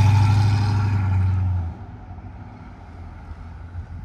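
A 1967 Ford LTD Fastback's 6.4-litre V8 engine rumbles deep and steady for a moment, then drops away, leaving a faint low rumble and background noise.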